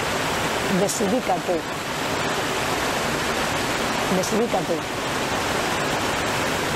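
Water flows and rushes continuously, a dense steady hiss like a stream, with someone speaking briefly over it twice.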